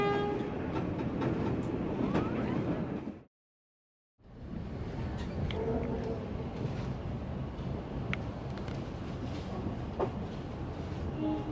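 A train runs on the Sumatra rail line with a loud, continuous rumble and clatter and a horn-like tone. The sound drops to a second of silence partway through, then the rolling noise resumes.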